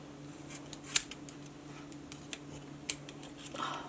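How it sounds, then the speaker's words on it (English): Scissors snip through glitter cord for a DIY dog collar, a few quiet close-up cuts with two sharp distinct snips amid soft handling noise. "I am going to cut about 1/2 inch up of the glitter cord as well as my Kelly green cord"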